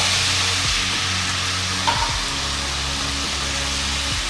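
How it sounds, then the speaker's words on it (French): White wine poured into a hot pan of sautéing turkey pieces for a paprika and mushroom turkey sauté, giving a steady, close, loud sizzle with a brief flare partway through and no voices. "Et je vais verser le vin blanc."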